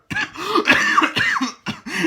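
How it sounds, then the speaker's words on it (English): A person coughs several times in a row, close and clear, with rough hacking bursts and brief gaps, sounding somewhat like throat clearing. "It's got me coughing, that has."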